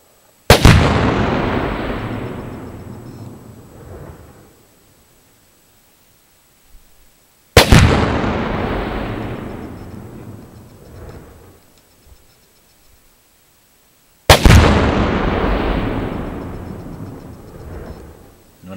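Three binary explosive detonations of one pound each, Tannerite, Shockwave and Gryphon Energetics, spaced about seven seconds apart, each a sharp, very loud blast followed by a long rumbling decay outdoors.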